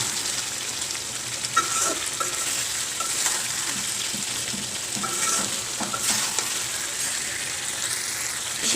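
Spices sautéing and frying in a pan, a loud continuous sizzle close by with repeated scraping and clinking of a spoon stirring throughout.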